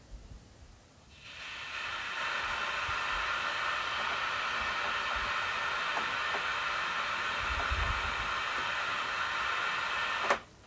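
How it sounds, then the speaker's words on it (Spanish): Steady broadband white noise test signal from a Reloop Elite DJ mixer switches on after about a second and holds loudly and evenly, then cuts off abruptly near the end. "Para eso voy a poner en modo ruido blanco y el crossfader en modo de corte."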